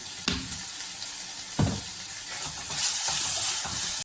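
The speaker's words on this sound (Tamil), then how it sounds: "தக்காளியும் இஞ்சி பூண்டு வெங்காயம் எல்லாத்தையும் நல்லா வதக்கிடலாம்" Onions and tomatoes with ginger and garlic sizzle steadily in a hot pan, with a few sharp scraping stirs cutting through the constant frying hiss.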